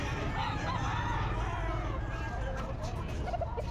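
A super brown-red rooster crows at the Baliuag pet market, its call faint amid a steady din of crowd and market noise.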